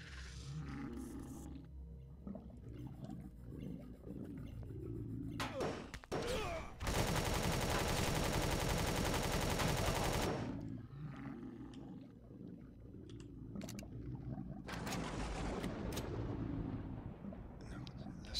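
Enemy laser fire in Empyrion - Galactic Survival crackles in dense rapid bursts, with one long sustained barrage in the middle and other volleys before and after, mixed with game effects and some talk.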